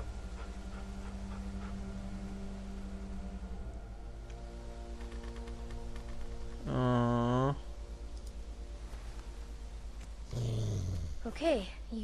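A dog in the video game The Walking Dead Season 2 gives two short, tonal growls several seconds apart, heard over a steady rapid clicking.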